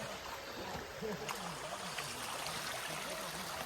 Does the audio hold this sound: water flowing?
yes